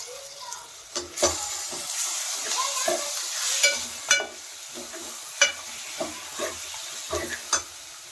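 Mutton frying with browned onion in a village-style pot, stirred: a steady sizzle runs throughout, broken by repeated scraping and clanking strokes of a spoon against the vessel, close and fairly loud.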